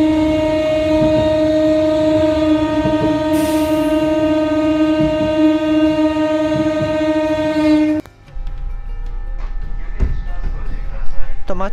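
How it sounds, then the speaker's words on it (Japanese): A Nankai Koya Line 6300 series train brakes hard in an emergency stop, a loud sustained tonal squeal of wheels and brakes that cuts off abruptly, leaving quieter rumbling and clanking as the cars settle. "線路から身を乗り出していた方がいたみたいで緊急停止をしたようです"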